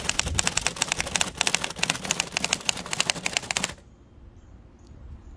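A 1925 Remington Model 2 typewriter is typed on outdoors, a rapid, even run of sharp key strikes that stops abruptly, leaving quiet outdoor ambience with a faint bird chirp.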